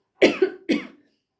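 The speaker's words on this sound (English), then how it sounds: "they're making me cough in that way" Two close, harsh coughs in quick succession, nearby and fairly loud, followed by silence.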